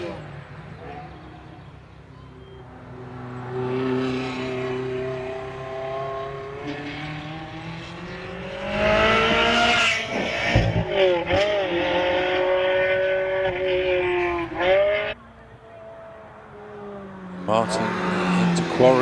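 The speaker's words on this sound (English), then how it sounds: "Martin Jones, meanwhile, heading up into Orchard Corner in the Ferrari 360." A Ferrari 360 climbing the Harewood hillclimb course, its engine rising and falling in pitch through gear changes and revs, heard beneath near-continuous commentary.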